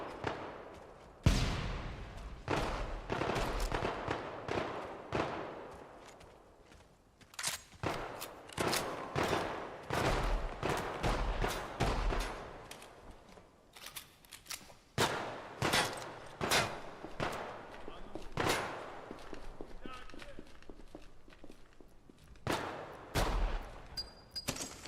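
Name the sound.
machine gun firing in a video game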